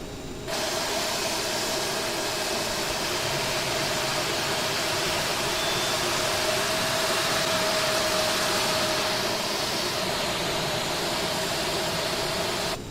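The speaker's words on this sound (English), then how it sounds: "Start engine 1. Starter engaged." Engine 1 of an Aerosoft CRJ jet spools up in a flight simulator, a continuous, fairly loud roar with a steady underlying whine that holds for the whole stretch, with no talk.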